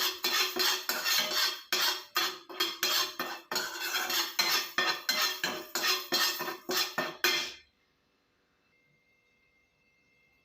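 Urad dal and fenugreek seeds dry-roasting in a pan rattle and scrape in quick, repeated bursts as a spoon stirs them. The clatter is close and fairly loud, then stops abruptly, leaving near silence.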